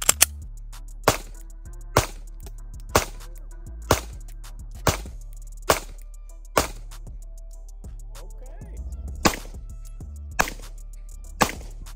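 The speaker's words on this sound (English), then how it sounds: "let's go ahead and get the first rounds through the gun," Ten sharp, loud gunshots from a Springfield Hellcat Pro Comp 9mm pistol firing PMC Bronze ammunition, spaced about a second apart in a steady string, each with a short ringing tail and no talking.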